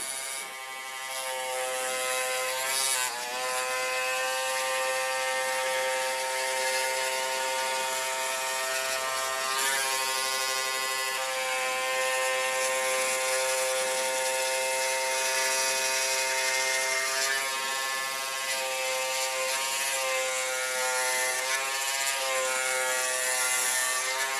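Steady, even buzzing of electric hair clippers trimming hair, a continuous close mechanical hum holding for the whole stretch with only slight shifts in pitch and no talking.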